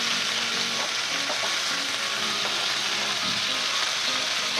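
Garlic, dry red chillies and curry leaves crackle in hot frying oil for a tempering, a dense, steady close-up sizzle with small popping spatters throughout and no voices.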